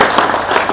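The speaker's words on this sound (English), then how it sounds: "So can we clap for Martin?" Audience clapping for Martin at a gathering about the reopening of the Onitsha drug market, a brief dense burst of applause that fills the short moment without any voice over it.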